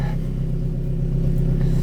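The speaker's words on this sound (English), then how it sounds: "I'm sorry already if the car is gonna be a bit loud" A Toyota 1.8-liter four-cylinder car engine running loudly, a steady low rumbling drone close by, unbroken through the short moment.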